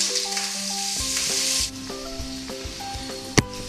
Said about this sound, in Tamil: இப்போ வெங்காயம், பச்சை மிளகாய், கருவேப்பிலை போட்டு வதக்கலாம்.